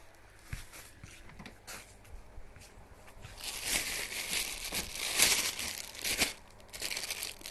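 Plastic packaging on new clothing being opened, with faint crinkling that grows into louder, close rustling and crackling, and no talking.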